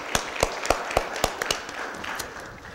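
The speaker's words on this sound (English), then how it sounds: "Let's give Pastor Rice a big round of applause." Sparse clapping at a Board of Aldermen meeting for a church pastor; a handful of distinct, fairly quiet claps in a loose rhythm, thinning out toward the end with no speech.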